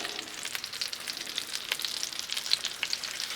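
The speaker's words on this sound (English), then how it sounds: "I'm gonna go ahead and throw our bacon on now." Steady, crackling sizzle of thick-cut bacon frying on a hot Blackstone griddle, with sharp little pops scattered throughout and no talking.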